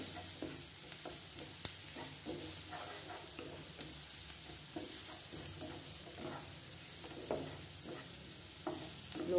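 Onion fries over low to medium heat for dal makhani, a constant soft sizzle with rhythmic stirring scrapes of a spoon against the pan, no voices.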